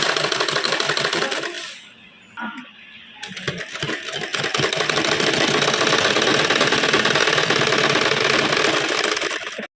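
A sewing machine runs loudly and close, stitching along the edge of canvas, with a steady rapid whir that pauses briefly near the start before running continuously again.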